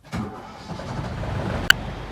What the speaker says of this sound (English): The helmsman starts the engine.